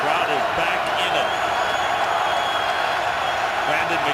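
Loud, steady roar of a packed stadium crowd at a Ravens NFL football game against the Cardinals, a dense wash of cheering that holds constant throughout with scattered whoops and shouts.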